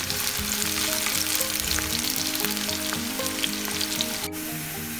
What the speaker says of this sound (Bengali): তো দেখেন আমার পেঁয়াজটা হালকা ভাজা হয়েছে, ব্রাউন কালার হয়ে গেছে।